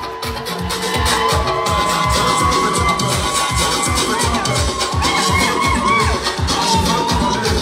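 A live audience claps and cheers for a performer named Nathalie, with a rhythmic, pulsing crowd roar and shouts building after the first second and holding loud over a thumping beat.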